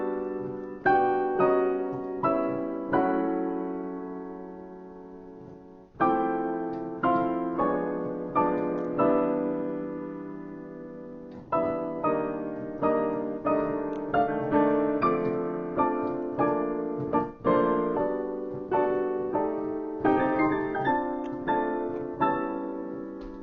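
Jazz piano plays a tune's melody with rich chord voicings, in clear ringing chords and single notes that strike in a steady phrased rhythm, close and alone with no talking.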